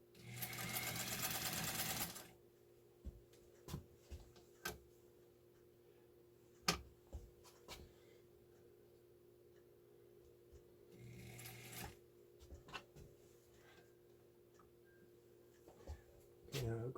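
A pink Adler Class 15 clone sewing machine stitches fabric at a long stitch length of about six stitches per inch. It makes two short, fast whirring runs separated by quiet stretches with scattered clicks and taps.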